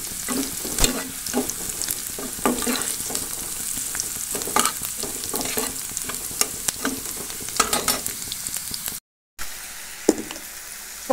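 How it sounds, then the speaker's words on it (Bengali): Two dried red chillies fry in hot oil before the greens go in, giving a steady close sizzle crackling with small pops and occasional stirring scrapes, cut by a brief dropout near the end. "একটু লাল লাল করে ভাজা হলে তারপর শাকটা দিয়ে দেবো।"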